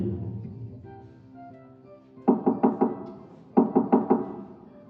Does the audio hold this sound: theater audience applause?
no